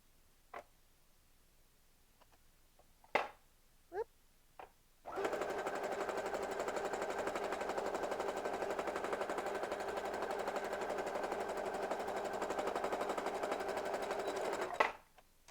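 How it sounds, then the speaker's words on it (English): A sewing machine stitches the side panels of a pair of pants with right sides together, running steadily and loud for about ten seconds after a few scattered clicks and handling taps, then stopping. "right sides together, and we're going to stitch them together"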